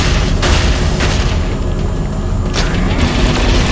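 Weapons fire and explosions in the video game Saints Row IV: loud, dense booming and blasts fill the whole clip as a continuous barrage, with sharp bursts recurring over heavy rumble and no talk.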